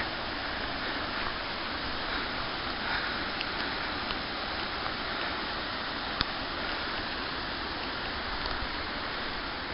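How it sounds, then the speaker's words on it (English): Small waterfall on a Canadian hiking trail, a steady rushing splash of falling water, close and even, unbroken for around ten seconds with no voices. "We got a little mini waterfall in here."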